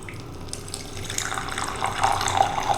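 Water runs from a refrigerator's built-in dispenser into a glass, a close, steady pour that grows louder and fuller as the glass fills.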